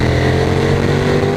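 Close and loud, a Ducati Streetfighter 848 motorcycle engine pulls hard under throttle on an open road, a dense steady growl over a brief moment with no voices.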